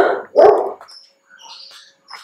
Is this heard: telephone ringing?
no